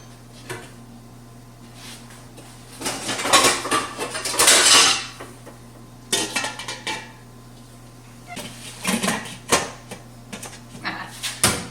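Pots, pans and metal lids clatter and scrape in a kitchen while someone rummages for the right lid, with bursts of clanking in several separate bouts between quiet pauses and a steady low hum underneath.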